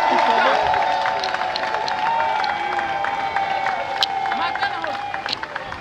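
Ceremony audience applauds and cheers after a countdown, a broad wash of clapping and crowd babble with a steady tone beneath and voices mixed in.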